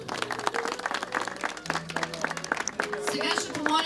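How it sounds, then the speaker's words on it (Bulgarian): Applause for the groom's mother at a wedding reception, a steady patter of clapping from guests mixed with background music and voices. "Аплодисменти за свекървата,"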